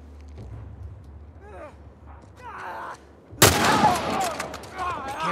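Gunfire from The Last of Us Remake breaks out suddenly after a quieter stretch with voices, turning into a loud, continuous volley of shots that keeps going to the end.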